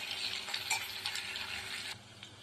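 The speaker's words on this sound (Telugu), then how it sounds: "ఇప్పుడు ఉల్లిపాయలు పచ్చిమిరపకాయలు కొంచెం ఎర్రగా వచ్చేదాకా వేసుకుందాం" Onions and green chillies frying in a hot tempering, a steady close-up sizzle with a light stir and clink of a utensil in the pan, no voices.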